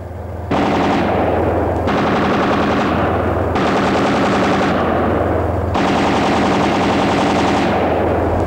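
A 12.7 mm anti-aircraft machine gun mounted on a T-72 tank firing, four long loud automatic bursts of rapid rattling shots separated by short pauses, with a low engine drone underneath.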